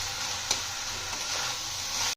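Grass pea greens and eggplant frying in a pan, a steady sizzle across the clip with a single stirring scrape near the start, heard up close with no talking.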